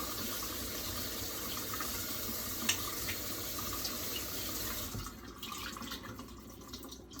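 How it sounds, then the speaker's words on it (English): Produce being rinsed under a cold running kitchen tap, a steady close rush of water with a brief splash, thinning to quieter trickling and drips near the end. "then rinse them with cold water"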